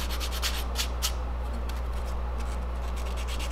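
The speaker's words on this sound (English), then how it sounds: "Just a few 400 grit finishing touches." Fine 400-grit sandpaper rubs over a sealed wooden jerkbait with a brass belly blade, giving a run of short, soft scratchy strokes close by over a steady low hum, with no talking.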